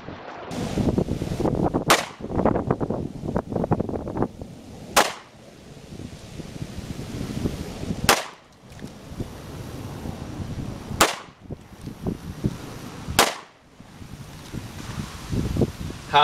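Five sharp 9mm Federal HST 124 grain +P pistol shots from a Boberg XR9S with a 3 1/3 inch barrel, evenly spaced cracks outdoors with wind rustling between them.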